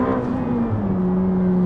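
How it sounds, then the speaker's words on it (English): Ferrari F8 sports car engine droning steadily from inside the cabin during a ride, a loud sustained tone that holds its pitch under faint road noise. "Just sounds like an Italian sports car should sound as well."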